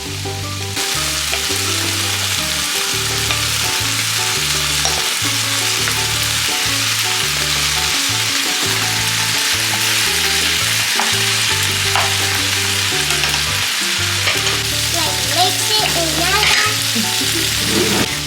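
Shrimp sizzle loudly in a hot pan as they are stirred, and repeated scraping and knocking from the utensil run over a constant frying hiss from beginning to end.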